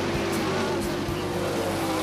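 A dirt track race car roars steadily down the back straightaway on the last lap of the 2009 Kings Royal, a constant loud engine drone with a sustained tonal whine and no break.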